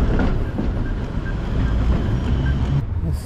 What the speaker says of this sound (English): There's a tram there, just about to take us out.